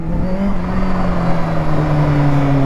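Kawasaki Ninja H2 motorcycle at full throttle, a loud, close, sustained engine note with steady rising pitch under wind roar, continuous and without pauses.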